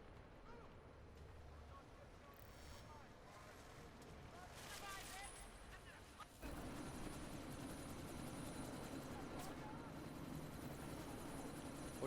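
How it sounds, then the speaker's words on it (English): Helicopter in the video game Deus Ex: Mankind Divided, idling before takeoff, a steady rotor and engine drone that swells louder and fuller partway through, with voices talking over it. "That chopper's about to take off!"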